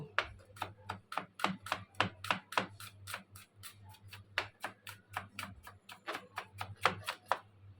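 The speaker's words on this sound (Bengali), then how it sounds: "রসুনটাকে কুচি করে নেব।" A knife chops garlic on a board, with sharp, evenly spaced taps in a quick, steady rhythm, close and clear against a quiet background.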